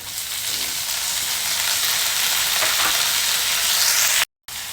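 Sliced onion and tomato hitting hot oil in a pan, a loud continuous sizzle with some stirring, close up, cutting off abruptly near the end.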